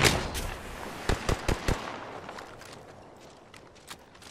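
Gunfire in Apex Legends: a few sharp shots early, then a quick burst of four cracking rounds, followed by scattered fainter distant shots and footsteps, moderately loud with no talking.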